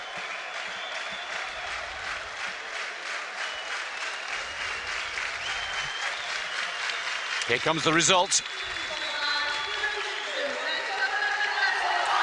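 A boxing crowd applauds and cheers steadily after a super heavyweight semifinal bout, a sustained wash of clapping that swells briefly as the score is announced, with a commentator talking over it.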